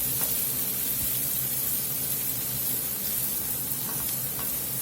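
Green and red bell pepper and a small red onion sweat in a pan, a steady, even sizzle with faint crackles running unbroken throughout.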